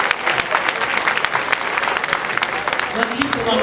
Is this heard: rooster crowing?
no